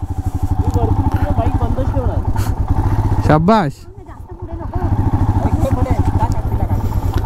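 A motorcycle engine runs steadily and loudly on a hill road near Mahabaleshwar, briefly dipping in the middle before resuming, with a voice speaking over it.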